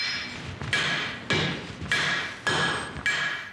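A blacksmith's hammer strikes hot metal on an anvil while forging a pair of tongs. Six sharp, ringing blows land at a slow, uneven pace, close and loud, with no talk.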